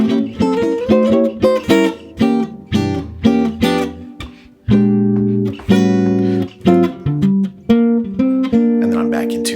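Quick diminished runs of clean jazz guitar notes from Wes Montgomery's "Missile Blues" rise and fall in bursts with brief pauses, plucked and resonant, played alone.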